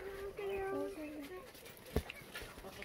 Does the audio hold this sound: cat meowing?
yes